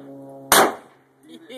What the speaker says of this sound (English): shooting an M4